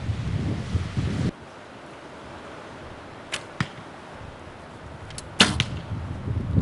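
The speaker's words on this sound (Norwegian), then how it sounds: "Så nå er jeg klar til å gå ut og skyte" Arrows shot from a bow outdoors in a breezy archery contest, wind rumbling at first, then several sharp whooshes and thuds in quick pairs, close and crisp, ending with a louder impact.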